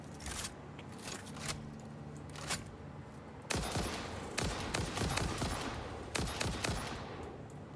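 Gunfire in the factory-building game Satisfactory, rapid bursts of shots that start faint and grow denser and louder partway through, with scraping game sounds in between.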